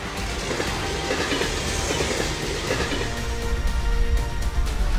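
A passenger train rolling along rails in the Train Life railway simulator game, a loud continuous rumble with rhythmic clickety-clack of wheels over track joints, steady throughout with no voices.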